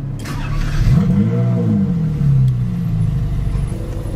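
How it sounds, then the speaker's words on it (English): A Saab car engine starting from the steering-wheel start button, a short crank that catches, revs up and drops back to a steady idle, close and loud with no talk. "hit the red button on the steering wheel to start"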